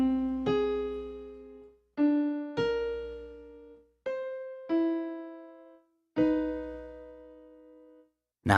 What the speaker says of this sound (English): this next one's called the minor sixth